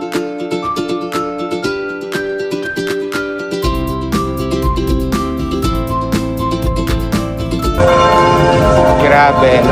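Bells of Baclaran Church ring out in a quick, overlapping series of strikes with long ringing tones, growing fuller and louder toward the end.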